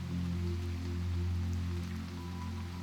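Steady rain on a stormy street, a continuous wash of hiss and patter under a low, humming drone, with no voices.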